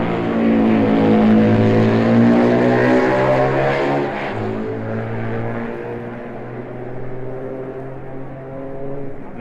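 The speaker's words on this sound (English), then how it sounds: "Then Dickie Dale on his BMW twin." Racing motorcycles, including a BMW twin, pass on the Isle of Man TT road course, with a loud droning engine note that shifts in pitch as the machines sweep by, and no speech.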